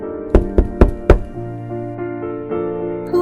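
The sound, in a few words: knocking on a cottage door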